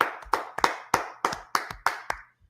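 A small group claps for the Lord during a brotherhood class, with about eight sharp, fairly regular bursts of hand claps close by that fade out after two seconds, with no voices.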